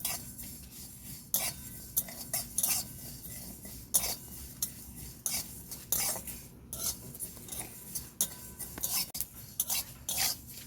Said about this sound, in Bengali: এভাবে হালকা আঁচে মশলাগুলোকে ভেজে নেব। ঘন ঘন নাড়তে হবে যাতে না পুড়ে যায়।